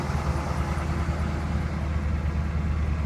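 A 2011 Chevy 3500HD gas truck idles just after a cold start, a steady low engine rumble close by and unbroken, with no voices over it.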